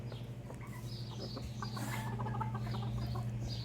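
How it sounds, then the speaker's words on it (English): Three bantam chickens on a homestead clucking softly and intermittently against a steady low hum, with no talk over them. "There's my 3 bantams"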